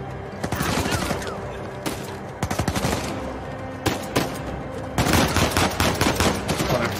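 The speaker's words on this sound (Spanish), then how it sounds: "Los tiroteos eternos." Firefight in Uncharted 4 in Madagascar: rapid automatic bursts and single shots, loud and close, arriving in dense clusters with brief gaps between volleys.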